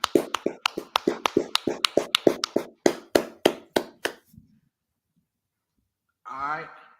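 A single pair of hands claps in a steady, slightly slowing rhythm, about seventeen sharp close claps, then stops; after a pause a brief voice is heard.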